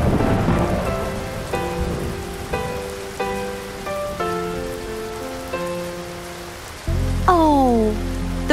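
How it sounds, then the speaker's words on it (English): Heavy rain pours down steadily in a cartoon scene, a dense hiss running throughout beneath sustained musical tones, swelling louder near the end. "Oh, the rain's coming down harder."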